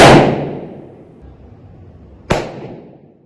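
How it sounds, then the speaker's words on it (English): A model rocket is ignited and launched, giving a loud burst at the start that fades into a long hissing decay, then a second sharp crack near the end, heard close with no talking. "our next step is to light the top of this rocket, and remember, this could be loud."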